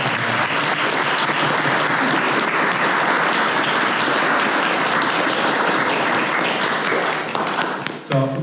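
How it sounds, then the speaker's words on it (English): An audience at an English honors society induction ceremony applauds steadily and loudly for several seconds, then the clapping fades at the end. "Let's give them a big round of applause."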